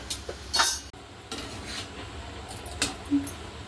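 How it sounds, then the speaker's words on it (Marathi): Masala spices dry-roasting in a pan on a gas stove, stirred with a utensil: soft scraping and rustling with a few sharp clinks, close and moderately loud, no voices. "आता हा मसाला मस्त आपण खास गॅसवर एकदा चांगला भाजून घेऊया"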